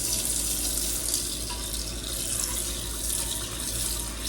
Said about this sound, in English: I'm going to rinse this out with water.